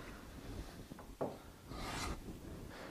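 Hand tool rasping along a wooden edge while cutting a chamfer across the grain, a few short scraping passes rising to a longer, louder stroke near the end, close and alone.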